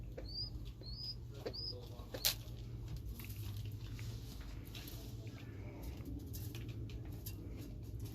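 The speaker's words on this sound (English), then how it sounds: "Look at all these birds." Pigeons in a loft give soft low coos and rustling, with a few brief chirps and occasional wing or beak taps, faint and close against a steady background hum.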